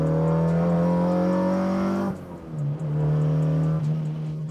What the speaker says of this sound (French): Le VTEC a un son incroyable.